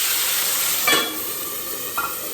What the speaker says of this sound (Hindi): जब ये जीरा हो जाएगा, भुन जाएगा हींग और जीरा, तो टमाटर डाल दूंगी।